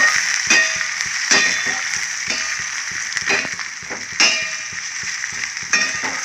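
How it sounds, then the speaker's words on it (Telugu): Curry leaves and green chillies fry in a pan for a field bean and chana dal curry, with a steady hiss and sizzle broken by repeated clanging stirs of a metal spoon against the pan. "కరివేపాకు, పచ్చిమిరపకాయలు రెండు వేసుకుని టేస్ట్ బాగుంటుందండి. వేసి కలిపించుకోవాలి. ఇది బాగా ఫ్రై అవ్వాలి."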